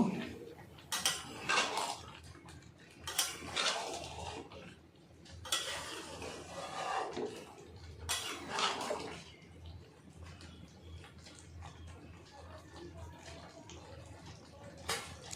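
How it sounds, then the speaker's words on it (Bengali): A spoon stirs a thick prawn and bottle gourd curry in a pan, making four or five separate scraping and clinking strokes at a low, close level, with no speech. "জিরে গুঁড়ো এবং ধনে পাতা দেওয়ার পর আমি একবার ভালো করে নাড়িয়ে নেব"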